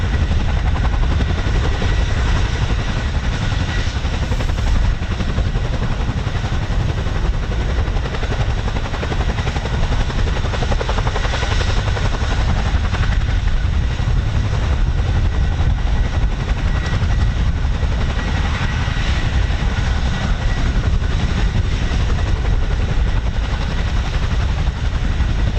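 RAF military helicopter flying over an air weapons range during live combat training, a loud, continuous rotor and engine roar that holds steady throughout with no speech.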